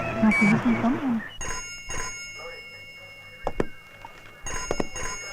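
In a Hindi film scene a telephone rings in short repeated bursts amid voices and bumps, and people talk over and between the rings.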